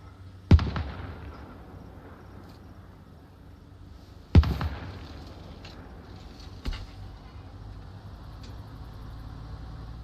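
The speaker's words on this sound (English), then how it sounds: "They've got the mortars up now." Mortar rounds firing in Arma Reforger, three sharp booming thuds spaced a few seconds apart, the later ones weaker and more distant, each with a short rumbling tail over low background noise, no talk.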